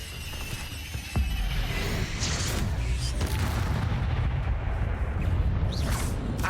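Incendio fire spell cast in the Hogwarts Legacy video game: a low booming burst followed by a sustained roaring, rumbling whoosh of flame that fills the scene loudly and steadily.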